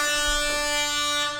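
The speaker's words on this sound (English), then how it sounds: "Let me hit an air horn for Trader Truth." A loud, sustained air horn blast with a bright, buzzing tone, played as a sound effect in a podcast, holding steady and then dropping slightly at the end.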